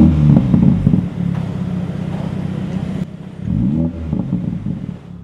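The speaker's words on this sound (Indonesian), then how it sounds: "Suaranya kebuka dikit. Ada crackle-nya dikit." A Mini Cooper JCW engine revving up and settling with a rumbling exhaust, two distinct rises in pitch, close and loud; crackles are not clearly distinct.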